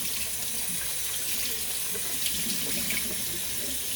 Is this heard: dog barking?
no